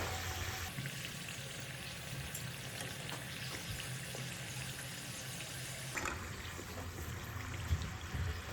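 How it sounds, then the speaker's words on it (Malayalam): Chicken samosas fry in hot oil with a steady, dense bubbling sizzle, fairly quiet and even throughout, with a brief clatter partway through and no talking. "ചൂടായി കിടക്കുന്ന ഓയിലിലേക്ക് ഓരോ സമൂസ ഇട്ട് കൊടുത്ത് തിരിച്ചും മറിച്ചും ഇട്ട് ഫ്രൈ ചെയ്തെടുക്കാം"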